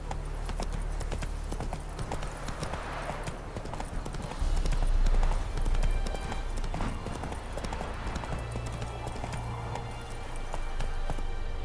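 Horse hooves clip-clopping at a steady gallop in The Witcher 3, a continuous rhythmic drumming of hoofbeats over low rumbling ambience, loud and close, with a brief heavier burst midway.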